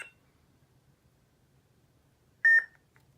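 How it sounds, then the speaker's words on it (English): One short, bright electronic beep from a Starfall Sabers Corran Horn V2 toy lightsaber sounds in near silence, followed by a faint softer blip; a brief tone also trails off at the very start. "push and hold the power button until you hear the second beep"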